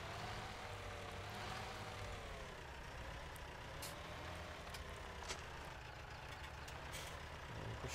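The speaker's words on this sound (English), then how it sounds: "I think that's a Steyr multi-tractor" Modern Steyr multi tractor engine in Farming Simulator 2017, a steady continuous diesel drone with a faint shifting whine, held at an even level throughout with no talking.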